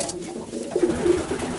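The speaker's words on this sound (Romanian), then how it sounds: "Asta e un porumbel." A racing pigeon gives a soft, low coo in a loft, a short two-part call heard close by over faint room noise.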